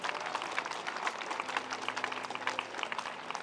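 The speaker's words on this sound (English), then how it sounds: "So big round of applause, Michal." Brief burst of crowd applause at an outdoor political rally for a Green Party speaker, steady and moderately loud throughout without talk.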